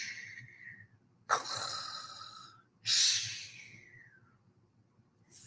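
People mimic snoring with long, breathy snorts and wheezy exhales, three drawn-out rasping breaths spaced a second or two apart, close and fairly loud against a quiet background.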